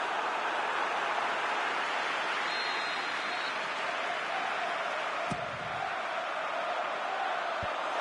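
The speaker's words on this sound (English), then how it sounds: "Crowd calling for him to shoot." Virtual stadium crowd in the PES 2019 football game, a broad steady roar of massed voices urging a shot, held at an even level with a brief thud near the end.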